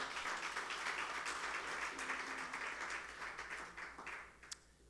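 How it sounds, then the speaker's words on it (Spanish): Congregation applauding in a church, a steady wash of many hands clapping at moderate distance that holds for several seconds and thins out toward the end, with faint voices mixed in. "Dale un fuerte aplauso al Señor."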